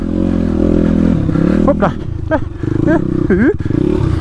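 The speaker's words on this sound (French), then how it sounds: "Et là, les motos sont en rodage" Dirt bike engines drone and rev, rising and falling in pitch as the bikes are broken in riding through mud nearby, with someone speaking briefly over the noise.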